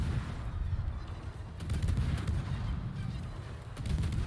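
Booming naval gunfire from a Japanese Kitakaze tier 9 destroyer in a naval combat video game at Okinawa, heard as a dense, rumbling barrage of low blasts that swells and repeats across the whole stretch, loud and continuous.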